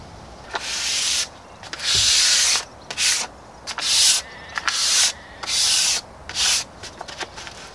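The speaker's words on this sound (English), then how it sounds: "Just a very quick sand, getting bits off that might have blown onto the paint." Hand sanding of a freshly painted narrowboat hatch, heard as repeated rasping strokes in steady back-and-forth bursts with short pauses between them, close and loud.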